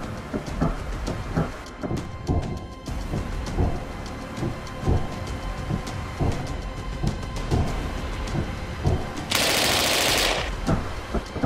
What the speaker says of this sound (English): What can it do if you fire it in bursts?